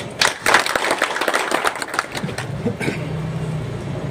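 Crowd clapping at a political rally for a municipal council election in Umri, a dense burst of applause under mixed voices that thins out and fades after a few seconds.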